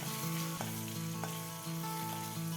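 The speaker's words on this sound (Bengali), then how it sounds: "তারপর জাস্ট কয়েক সেকেন্ড একটু নেড়ে চেড়ে ফোড়নটাকে একটু ভেজে নেবো" Whole spices for tempering sizzle and crackle steadily in hot oil, a close, continuous frying hiss with a faint steady hum underneath.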